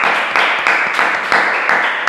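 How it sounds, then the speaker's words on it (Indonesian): Loud, close applause from a studio audience at an Indonesian talk show, brisk rhythmic hand claps repeating about every third of a second, heard alone with no talk. "tepuk tangan buat Paisan"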